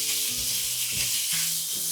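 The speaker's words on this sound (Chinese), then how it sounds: "這裡不用放油，下入五花肉" Slices of pork belly sizzle and spit in a hot dry wok with no oil, a dense continuous frying hiss broken by faint scraping stirs.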